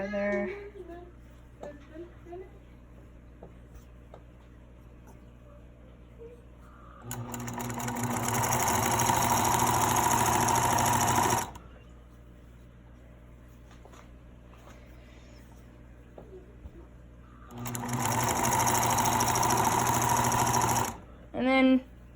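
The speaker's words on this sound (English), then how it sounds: "then you start sewing down to the edge" A sewing machine stitches fabric down to the edge in two sustained, close runs separated by a pause, with a quiet stretch before the first run.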